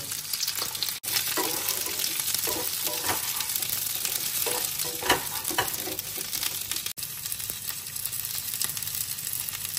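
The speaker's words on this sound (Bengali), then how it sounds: "কেটে রাখা ঢেঁড়সগুলোকে গরম তেলে দিয়ে দেব।" Cut okra (bhindi) fries in hot oil in a kadai, a continuous close crackling sizzle with occasional stirring scrapes and no voices.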